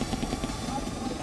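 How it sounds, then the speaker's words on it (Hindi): Rudra and Apache attack helicopters pass over a battlefield during an Indian Army and Air Force exercise, giving off a steady rotor thrum and engine drone at moderate distance. "बैटलफील्ड पर 2 अटैक हेलीकॉप्टर आए, रुद्र और अपाचे"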